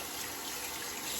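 A hand is rinsed under running water during a shave with a Gold Sector razor and an alum block, a brief, steady hiss of water from a tap.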